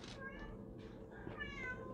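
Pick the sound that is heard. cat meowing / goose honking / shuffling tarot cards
cat meowing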